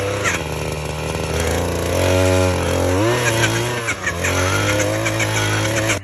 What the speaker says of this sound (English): the auger still does not want to go through the ground